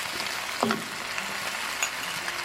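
Chinese pork sausage stir-fries in a hot pan with a soft, steady sizzle. A few brief stirring knocks stand out, all at a fairly low level.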